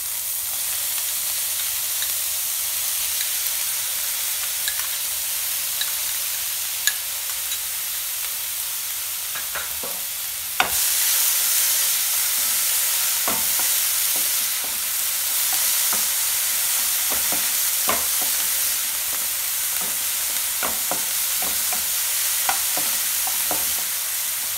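Mushrooms fry in a hot pan with a loud, steady sizzle, punctuated throughout by the scrape and knock of a spatula as they are stirred. No talking.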